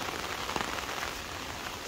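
Heavy rain pours steadily onto surfaces beside a flooding drain along a railway, a dense, constant hiss with no voices, holding an even loudness throughout.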